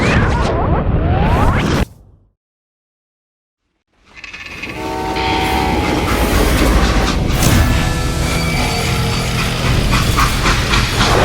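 A freight train in the Call of Juarez Gunslinger video game: a loud rolling rumble that cuts out briefly into silence, then returns with clattering wheels and a long horn-like whistle tone over the heavy rumble.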